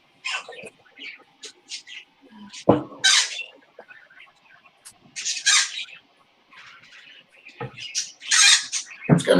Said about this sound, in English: My birds are loud.